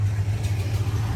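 A demolition derby car engine runs alone at a steady, even idle, a close and continuous low rumble with no voices.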